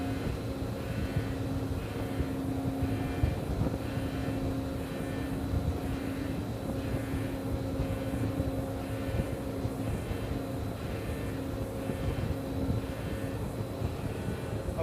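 A tunnel boring machine in a construction tunnel at the Port of Miami hums in a loud, continuous mechanical drone with steady tonal whine as thrust cylinders move and segments are set in place.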